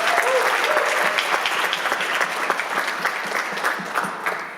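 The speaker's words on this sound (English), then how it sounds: "Please give a round of applause for Mr." An audience at a panel event applauds steadily for a speaker being introduced, a dense wash of clapping that thins slightly toward the end, with faint voices underneath.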